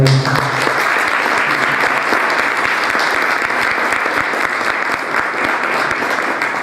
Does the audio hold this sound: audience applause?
yes